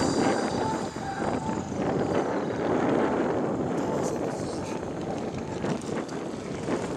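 Wind gusts across an open ski slope in Kharkiv, a broad steady rush buffeting the microphone with rumbling bursts throughout.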